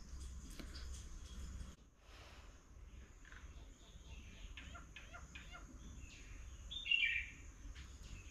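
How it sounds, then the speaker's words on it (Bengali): Scattered bird calls, with doves and tailorbirds named among them, chirp faintly around a village home over a low steady background hum, with one brighter, louder burst of chirping near the end. "কত রকমের পাখির আওয়াজ ঘুঘু পাখি টুনটুনি"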